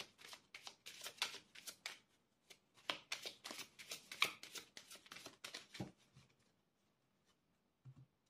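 A deck of oracle cards being cut and shuffled by hand, close, quiet riffling and flicking bursts in a quick irregular series, then a pause and a faint final tap.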